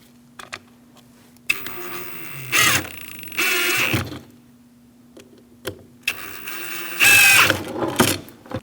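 A power screwdriver works on the screws of a window regulator inside the door of a 2000–2006 Mini Cooper, giving several short whirring bursts, loud and close, with quiet pauses between them.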